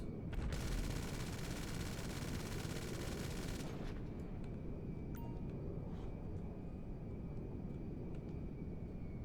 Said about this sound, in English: we will use the cannons and missiles